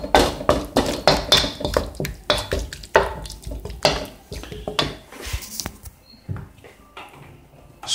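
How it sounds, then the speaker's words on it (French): A spoon scrapes and clatters against a pan as ingredients are stirred with the heat off, in repeated close scraping strokes that thin out into sparse taps toward the end. "Et là on remue, donc toujours feu éteint, on remue."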